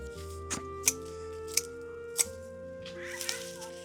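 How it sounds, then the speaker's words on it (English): Scissors trim a fava bean plant in a home garden, giving about four crisp, separate snips at a close, moderate level over a soft steady musical background. "Give that fava bean a good trim."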